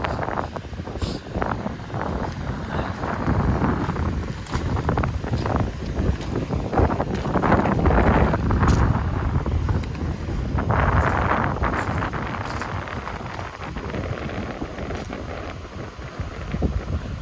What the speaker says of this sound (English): Very windy there.